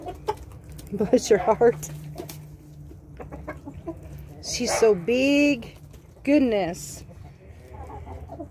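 Old hens cluck and squawk close by in a backyard, several short bursts of calls, while someone talks softly to them in between.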